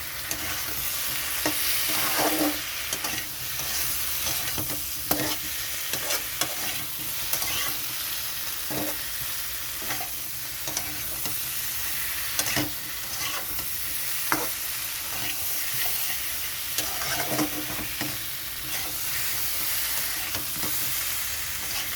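Boiled taro and potato sauté in a pan for a katla fish curry, with a continuous sizzle broken by frequent spatula scrapes and stirring clatters, steady and close throughout.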